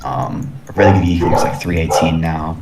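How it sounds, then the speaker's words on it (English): Dogs bark and whimper in the background of a room, partly masked by someone talking steadily over them. "Sorry about the dogs."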